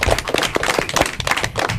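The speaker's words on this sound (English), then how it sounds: "I'd like to hear a big round of applause for yourselves for a job well done." Audience at an elementary school academic competition clapping, a short burst of close, uneven hand claps with no voices.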